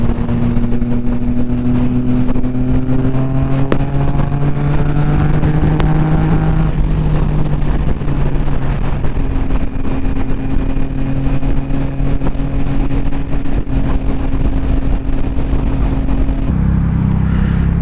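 A motorcycle cruising on a highway on a winter ride: a loud, steady engine drone with wind rush throughout, its pitch climbing in the first seconds, then holding even before a brief shift near the end. No one speaks.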